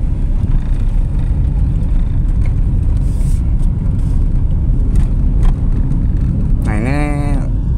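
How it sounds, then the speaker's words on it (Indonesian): Small hatchback, a Brio Satya or new Agya 2024, idling in a traffic jam, a steady low engine rumble filling the cabin, with a brief rising electronic chirp near the end. "Lagi idling ataupun lagi jalanan macet kayak begini gitu ya"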